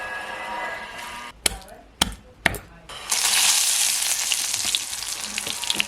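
Curry leaves and garlic sizzle in hot oil ahead of frying dandavshi fish, with three sharp clatters breaking a steady hiss that swells loud and dense in the second half.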